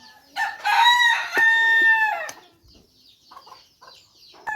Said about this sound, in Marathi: कोंबडी बघा असं बाहेर आलं ना